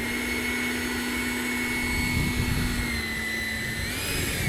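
A Freewing 80mm electric ducted fan RC jet, a custom Star Wars L-Wing built on an L39, runs at a steady high-pitched whine with a rising tone near the end, close and continuous with no voices.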